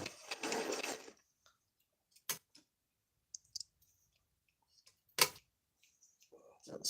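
A sewing machine stitching soft fabric, heard as a loud whirring run at the start followed by short sparse clicks and bursts, close by.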